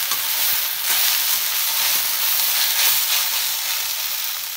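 Okra and onion sizzle steadily in a frying pan, a dense continuous crackle with faint stirring scrapes, close and fairly loud with no talking.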